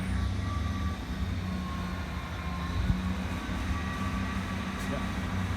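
Class 159 diesel train departing Pinhoe station level crossing in Devon, a steady engine drone and rolling rumble with a tonal hum, close and loud, with faint talk over it.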